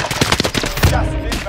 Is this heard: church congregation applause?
no